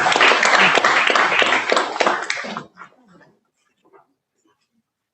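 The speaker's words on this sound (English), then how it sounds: "Please give her a clap as well." Audience applause at a Uganda–Kenya coast tourism conference: a dense, steady burst of clapping that lasts a few seconds, then breaks off into near silence with only a few faint scattered sounds after.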